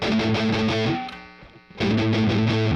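An electric guitar plays distorted chords through an effects unit, comparing the bridge pickup with the muddier, rounder neck pickup, in two loud strummed phrases split by a brief decaying pause.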